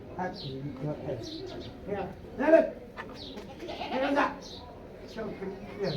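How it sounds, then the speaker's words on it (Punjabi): Goats bleat repeatedly, several calls near and a bit farther off, mixed with people talking nearby. "ਬੱਕਰੀਆਂ ਵੇ ਆ ਗਏ ਨਾ ਅੱਗੇ ਬੱਕਰੀਆਂ"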